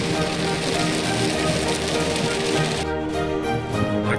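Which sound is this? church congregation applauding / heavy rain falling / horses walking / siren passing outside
heavy rain falling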